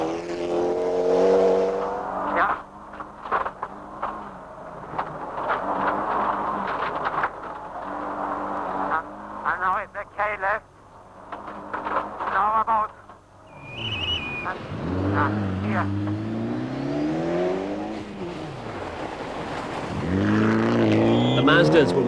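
Mazda rally cars on the 1989 RAC Rally work through tight hairpins, engines rising and falling as they brake and accelerate, passing close with whining revs, partly under a commentator's narration.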